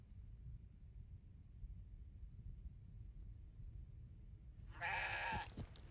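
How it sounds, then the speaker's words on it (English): A goat in the game CrossCode lets out a single loud, excited bleat near the end, after a stretch of quiet low rumbling ambience. "Excited goat noises."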